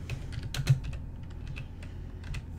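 Typing on a computer keyboard comes as a short run of quiet, close keystrokes. The taps fall at an uneven pace, with brief pauses between them.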